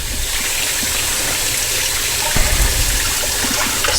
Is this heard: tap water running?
yes